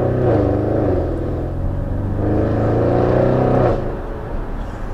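Audi RS6 estate tuned to 730 bhp accelerating hard, a loud, deep engine roar rising in pitch through the revs, easing briefly around the two-second mark, then climbing again before the throttle lifts near the end.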